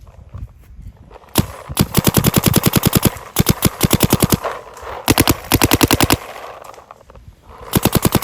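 A Planet Eclipse CS3 paintball marker fires in rapid bursts, several fast strings of sharp close shots separated by short pauses, with no talking.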